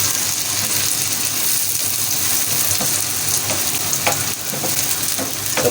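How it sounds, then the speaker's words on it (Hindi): Chopped onions frying in a hot pan, a steady loud sizzle that fills the whole stretch with faint stirring scrapes and crackles, no voices. "प्याज डालेंगे, जो कि हमने चॉप करके रखी हुई थी, तो थोड़ा सा भूनेंगे।"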